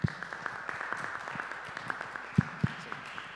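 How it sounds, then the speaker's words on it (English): Scattered clapping from a small conference audience of about sixteen people at a closing session, thin and uneven with a few louder claps standing out near the end. "Now is the time to clap."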